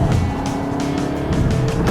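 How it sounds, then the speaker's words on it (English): Audi A3 driven hard around a racetrack, its engine roaring loud and close in a continuous strained drone with pulsing throttle variations, no talking. "this car is pounding around the racetrack"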